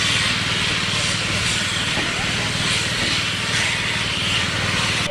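Steady, loud hiss of escaping steam from the Class B1 steam locomotive Mayflower fills the whole stretch, with a low rumbling engine throb underneath; no voices.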